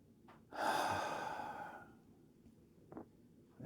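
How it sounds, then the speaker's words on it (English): A few people in a ritual circle draw a deep breath together and then let it out, a soft airy exhale swelling and fading over about a second, followed later by a brief faint breath in a quiet room. "take 3 deep breaths. Hold them for a second and release."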